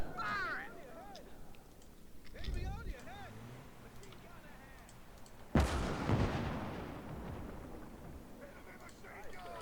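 Gun firing in the Gates of Hell war game, with one heavy, booming shot that rolls off into rumbling echo, amid battle noise and voices talking.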